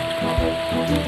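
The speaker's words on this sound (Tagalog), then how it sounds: "Kusog na kay ulan." Heavy rain pours steadily on a surface, a dense close hiss with a brief low thump partway through, no voices.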